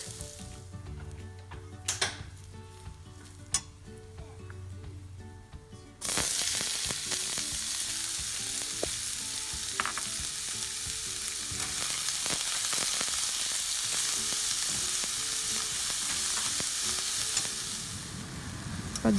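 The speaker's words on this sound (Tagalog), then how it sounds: "bawang hanggang maging mapula na ito. Saka natin idagdag ang sibuyas." Garlic and onion frying in a pan for a scrambled eggs with sardines dish, a soft crackle at first, then a loud steady sizzle once the onion goes in, with occasional stirring scrapes and no talk.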